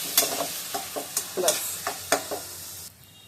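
Cut potato frying in a pan while dal is being cooked at home, a spoon scraping and stirring in a series of sharp strokes over a low sizzle, then fading to near silence.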